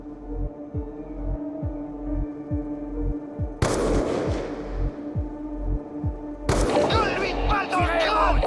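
Gunfire in Call of Duty Black Ops II, a deep rhythmic pulsing throb underneath, broken by two sudden loud gunshot blasts with ringing decay.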